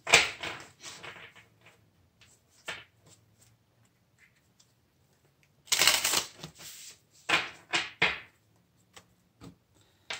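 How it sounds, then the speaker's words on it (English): Cards being shuffled by hand in several quick bursts of riffling and flicking, close by, separated by quiet pauses with a few soft taps. "let me shuffle these to get the energy cleared on them"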